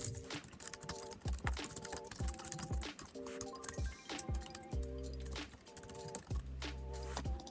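Keys clatter in quick irregular bursts as Java code is typed on a computer keyboard, fairly close and steady, with soft tonal sounds running underneath and no talking.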